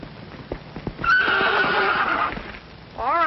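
A horse lets out a loud, drawn-out whinny after a few hoof thuds, then snorts; another shorter neigh rises at the very end.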